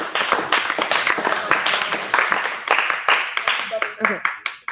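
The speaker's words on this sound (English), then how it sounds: "Give yourself a round of applause" A classroom group claps for a few seconds, sharp uneven hand claps with speech over them, thinning out toward the end.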